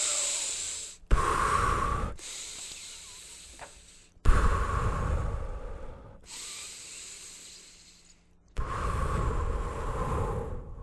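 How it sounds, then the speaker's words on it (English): Rapid, forceful breaths taken as part of a quick breathing exercise, with several loud, hissing bursts of inhalation and exhalation separated by brief pauses, close to the microphone and with no talking. "So breathe quick."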